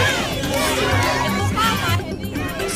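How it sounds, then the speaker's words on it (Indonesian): Pro-Palestinian protesters gathered in front of a Zara store in Tunis shout together in a loud, dense crowd roar, overlapping voices and chants filling the whole stretch before easing slightly near the end. "Mereka berteriak dan mengibarkan bendera Palestina."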